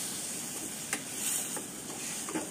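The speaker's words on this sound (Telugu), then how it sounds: "1 పండు టమాటా ముక్కలుగా కట్ చేసుకొని వేసుకొని మూత పెట్టుకొని" Tomato pieces dropped into a hot pan for Andhra pepper rasam give a steady, close sizzle with a few brief clatters and stirring knocks.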